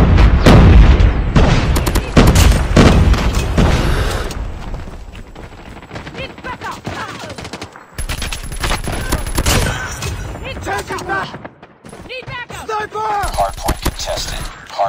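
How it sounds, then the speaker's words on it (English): Grenade blasts and rapid gunfire from a multiplayer shooter hardpoint match, loud bursts of shots and booms recurring throughout, with voices calling out over the battle. "Grenade out!"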